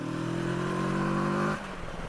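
Motorcycle engine revved briefly, a steady strong tone that cuts off abruptly after about a second and a half and drops to a low idle, no talk.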